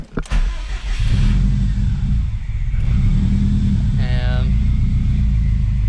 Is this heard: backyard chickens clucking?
no